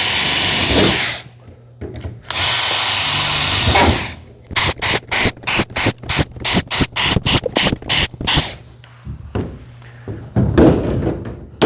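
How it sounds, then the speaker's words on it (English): A power drill bores holes in the roof of a box van, starting with two long whirring runs and then a rapid series of short bursts and stops, loud and close. "Drilling holes."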